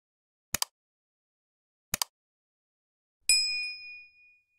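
A notification bell sound effect: two quick soft clicks, then a single bright, clear ding that rings out and fades, all against silence.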